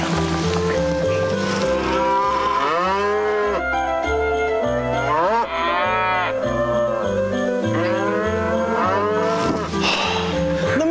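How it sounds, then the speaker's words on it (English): Tape recording of fake reindeer noises that sound like cattle: loud, continuous, overlapping mooing calls with drawn-out bellows and rising and falling tones, with no talking. "a tape recording of fake reindeer noises"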